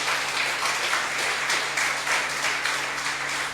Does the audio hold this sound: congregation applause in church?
yes